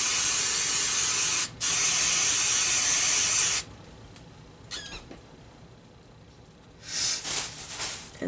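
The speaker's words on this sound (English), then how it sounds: "let me get my hairspray. Let me just spray it off camera real quick" Two long hissing bursts of hairspray from an aerosol can, close and loud, with a short pause between them, then quieter rustling and a few soft clicks.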